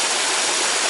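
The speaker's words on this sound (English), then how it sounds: "Another little tributary here" A small tributary stream pours into an elaborate little culvert beside a path, giving a dense, continuous rushing wash of water, close and fairly loud, with no voices.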